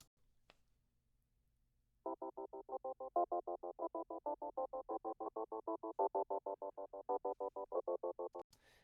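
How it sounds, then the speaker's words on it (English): After a short quiet pause, a steady tone pulses on and off in a fast, even tremolo rhythm with EQ applied after the tremolo, clean and isolated. "if we put the EQ after the tremolo, it sounds like this"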